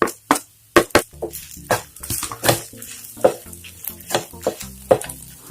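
Turmeric powder is added to coconut and coriander roasting in a pan, giving irregular sharp scrapes and taps of a spoon over a soft sizzle, close-up, with no voices.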